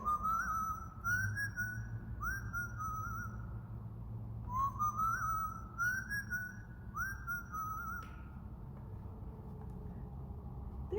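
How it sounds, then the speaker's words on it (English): Someone whistles a repeated rising two-note tune in short phrases, clear over a steady low background hum. "I hear a zookeeper whistling in my ear."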